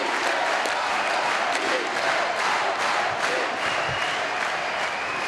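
A concert audience at a Fantasy Tour premiere claps and cheers in a continuous, dense roar of applause and crowd noise that holds at a steady level throughout.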